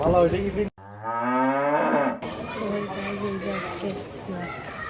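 A cow bought for Qurbani gives one long, loud, close moo in the middle of the clip. Voices talk and children play around it before and after.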